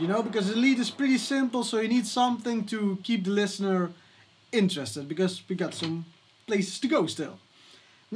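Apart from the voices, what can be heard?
None of the usual background noises is heard.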